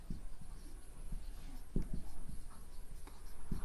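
Pen writing labels on a physics diagram of light reflection, soft close scratching strokes in short bursts with small taps, faint room hiss underneath and no voice.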